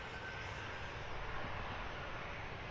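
Ryanair aircraft engine at Luton Airport, a steady broad roar heard at a distance, faint but continuous, with no talk over it.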